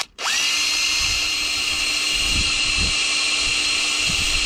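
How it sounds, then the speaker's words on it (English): A power drill spins up to a steady high-pitched whine while boring a pilot hole during a Tesla Model 3 wireless charger install, running loud and continuous, close by, with faint knocks from the bit underneath. "for the back, we're going to start with my pilot hole"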